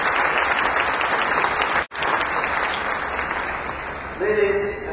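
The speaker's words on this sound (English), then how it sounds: "Let's give them a big round of applause for their success." Audience applause at the opening of the Treasures from China exhibition in Toronto: steady, dense clapping from a crowd, briefly cutting out, then resuming with a voice starting to speak over it near the end.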